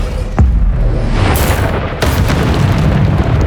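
A Bombarda spell in the Hogwarts Legacy video game bursts into a loud, deep explosion, followed shortly by a second sharp blast, with rumbling debris filling the space between and after.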